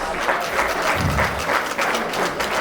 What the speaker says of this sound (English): Can we please give ourselves a round of applause?